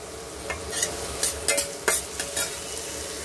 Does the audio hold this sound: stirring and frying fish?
yes